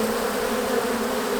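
Honeybees buzzing in maple trees on a January day, a steady, even drone holding for the whole short stretch with no break and no voices.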